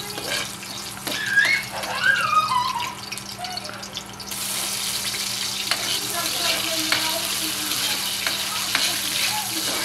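Onion and ginger sautéing in a pan, a steady sizzle with intermittent stirring and a brief water-like hiss, moderately loud with no talk over it.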